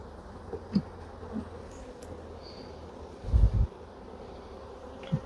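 Honey bees buzz in a low, continuous drone around a nuc hive, faint and steady, with a few soft knocks and one louder thump partway through.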